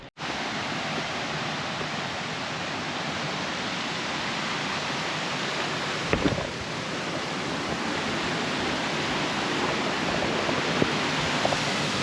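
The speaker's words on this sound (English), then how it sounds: "I don't think this is the waterfall that we've actually came to see, but it's a waterfall." Waterfall on a countryside walk near an abandoned mine, a steady broad rushing roar of falling water close by, continuous and unbroken with a few faint knocks.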